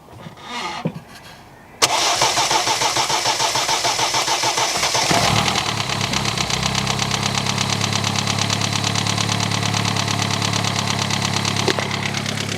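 A Mini Cooper S engine cranks after a quiet moment, turns over loudly for a few seconds, then catches and settles into a steady, rough-sounding idle that runs on close to the microphone.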